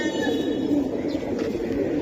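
Young pigeons for sale at a market give low cooing calls close up over a continuous crowded background hum.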